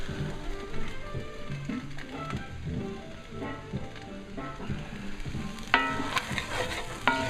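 Tofu fries in an overly hot pan for a vegan stir fry, giving a continuous crackling sizzle with brief louder spatters near the end.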